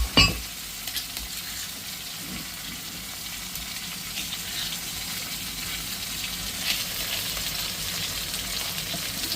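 Onion, garlic and green chili frying in a pan, a steady bright sizzle throughout with occasional stirring scrapes and a loud clatter at the very start.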